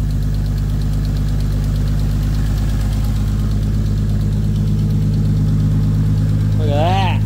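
A converted Nissan Pulsar's engine idles steadily and loudly up close with a deep, even drone, and a voice breaks in briefly near the end.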